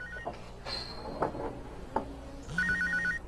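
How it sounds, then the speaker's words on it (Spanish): A mobile phone rings in short repeated electronic ringtone bursts, fairly close and clear, standing alone without talk over it. "cuando sonó su teléfono portátil"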